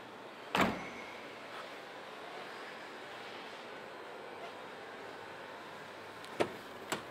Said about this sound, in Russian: Для закрытия багажника предусмотрена ручка.